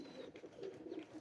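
Low, soft cooing from pigeons of Ferozpuri and similar fancy breeds kept by a breeder, a few rounded coos repeating over a faint, steady background hiss, with no talk.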